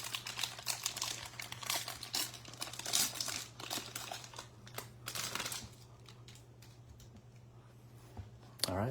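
A Topps Heritage baseball card pack with the 1973 design is torn open and its foil wrapper crinkled, giving close, busy crackling bursts that taper off toward the end.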